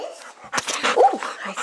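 Young puppies whimper and yip in short, high, whiny bursts close up, with soft snuffling and scrabbling between the cries.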